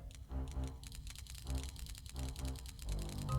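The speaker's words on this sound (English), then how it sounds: "This is just somebody clicking a pin over and over and over and over." Rapid, steady pen clicking repeated over and over in Banjo-Kazooie, a dense run of sharp mechanical ticks over a low hum and faint game tones, close and continuous for a few seconds.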